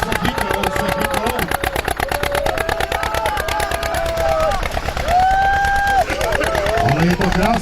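At a tractor meet, an old tractor engine catches and settles into a rapid, loud chugging idle, with people talking and calling out over the mechanical pulsing nearby.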